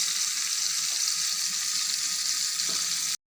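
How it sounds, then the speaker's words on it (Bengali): Fish fries in a pan with a loud, steady, close sizzle that runs unbroken before cutting off abruptly at the end. "আর এখানে মাছটা ভাজা হইতে হইতে আমি তরকারিগুলো কেটে নেই।"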